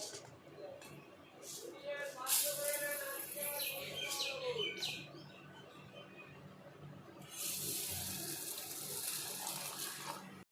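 Tap water runs into a sink while lentils are rinsed, a steady hiss with splashing that swells again later, with birds chirping faintly in the background.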